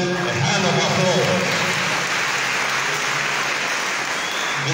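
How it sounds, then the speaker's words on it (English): Steady, loud applause from an audience at an anniversary celebration, dense clapping that fills the whole stretch without letup. "let's give them a hand of applause"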